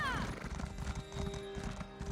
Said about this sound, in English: Oh, right, I have a horse.